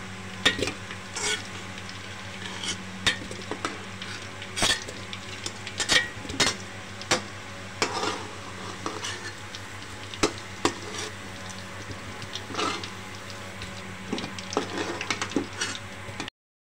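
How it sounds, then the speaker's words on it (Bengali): Beef pieces for korma sizzle steadily in a pan, with a spoon repeatedly scraping and clinking against the metal as they are stirred, close and moderately quiet with no voices. "এখন বাকি মাংসটা আমি ভেজে নিলাম।"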